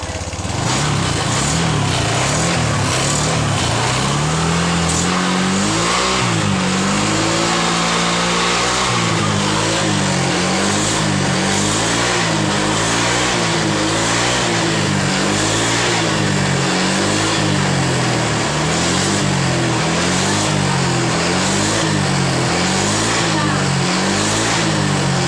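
A Honda Vario 125 scooter engine idles steadily after starting, with a low, even putter and small rises in revs, close up and continuous throughout while a voice talks briefly over it.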